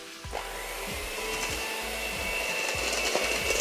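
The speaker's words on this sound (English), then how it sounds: "We're gonna start beating the egg yolks" Egg yolks are beaten by hand in a bowl for an Italian ciambellone cake: close, rhythmic scraping strokes repeat about twice a second over a steady background hiss, with no talking.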